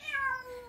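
A cat, likely a dropped-off stray, gives a single clear, close meow with a rising then falling pitch, with no talking.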